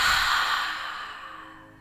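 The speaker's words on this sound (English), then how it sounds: "let's take a big inhale and then open mouth exhale" A deep open-mouth exhale during a yoga session for neck and shoulder pain, a single long breath that starts loud and airy and fades steadily over about two seconds, with no talking.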